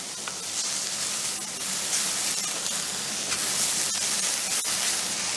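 Onions sauté over medium heat in a hot pan until browned and caramelized, producing a dense, steady close-up sizzle with faint crackles and occasional sharp ticks, alone and unbroken throughout.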